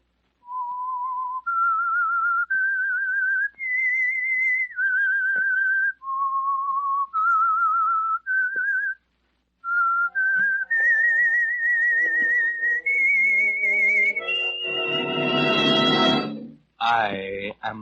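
A clear, melodic whistled theme tune for the Whistler radio program rises and falls in sustained notes, followed by a burst of orchestral music swelling loudly at the end.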